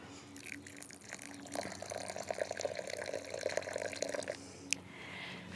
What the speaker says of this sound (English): And now I'm going to pour the water.